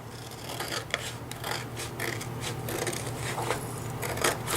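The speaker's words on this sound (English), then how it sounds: "now with our scissors, we're just going to follow our tape line" Scissors snip along a line of craft tape on a board, giving a series of close, crisp cutting and rasping strokes in an uneven rhythm.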